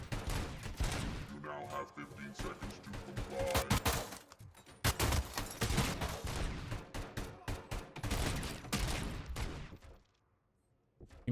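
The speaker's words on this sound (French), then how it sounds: "Il me tire dessus." Dense bursts of gunfire and rapid shooting in the Robocop Rogue City video game, loud and sustained with short pauses, cutting off near the end.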